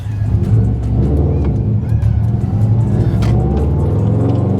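A Subaru WRX STI engine revs loudly and close by, pulling away with a steady low roar that builds as it accelerates.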